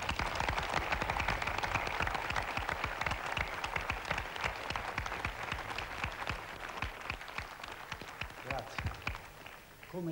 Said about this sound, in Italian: Ancora un applauso a Massimo Troisi